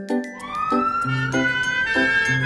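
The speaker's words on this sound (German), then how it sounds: "Sieh mal, dort kommt ein Rettungswagen." A cartoon ambulance siren wails in a repeating two-tone cycle, its pitch gradually climbing as the vehicle approaches, with light tinkling accompaniment and no speech.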